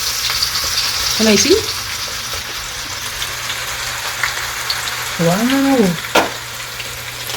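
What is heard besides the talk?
sweet potato frying in oil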